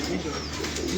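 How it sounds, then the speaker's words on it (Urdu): Pigeon cooing at a rooftop loft of Pakistani pigeon fanciers, soft low cooing over a busy background with voices nearby. "اس کبوتر کو لے کے آنا."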